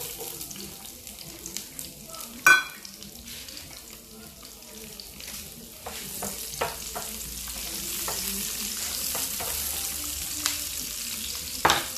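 Chopped onion frying in hot oil in a pan while cooking macaroni pasta, a steady soft sizzle with occasional stirring scrapes and clinks, fairly quiet and close, with no talking.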